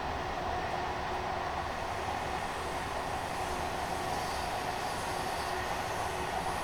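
Steady, loud rumble of a Class 802 train running on the South Devon main line in Train Sim World 6, a continuous broadband roar with no talk and no clear rhythm.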